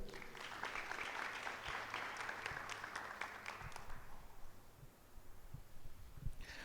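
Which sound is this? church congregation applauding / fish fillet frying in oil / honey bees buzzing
church congregation applauding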